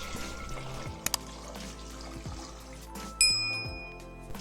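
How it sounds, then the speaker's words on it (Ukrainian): Water pours and trickles into a pot over sorrel soup ingredients and spices, with a couple of sharp clanks and a bright metallic ring partway through as the pot is set on the stove. "Потім заливаю все водою та ставлю на вогонь."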